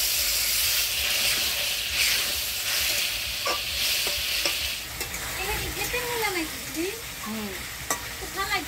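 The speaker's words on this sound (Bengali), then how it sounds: "আলু দিয়ে মশলা দিয়ে ভালো করে কষাই নিলাম" Potatoes with turmeric, salt and ground spice paste fry in oil with a splash of water, giving a loud steady sizzle and hiss while a spoon scrapes and stirs the pan in repeated strokes.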